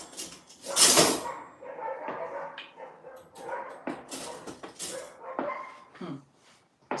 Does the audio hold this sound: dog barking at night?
yes